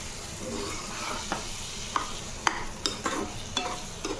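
Spices for a paneer curry sizzle steadily in a pan while a utensil stirs them, scraping and tapping against the metal in sharp, uneven strokes up close.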